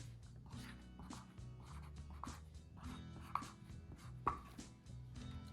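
Quiet, repeated crisp crunching sounds at a steady rhythm of biting into an apple, with a couple of sharper clicks.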